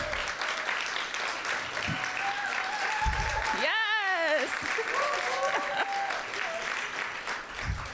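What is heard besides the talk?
loud roaring applause for sponsors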